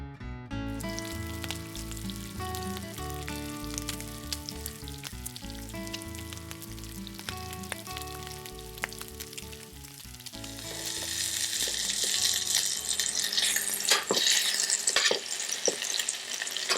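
Meat for a Dijon mustard dish sears in well-heated oil in a pan that is not non-stick, bursting into a loud, crackling sizzle after a stretch of background music.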